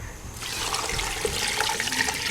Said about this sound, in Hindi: 3 गिलास से 4 गिलास तक पानी डाल दिया इसमें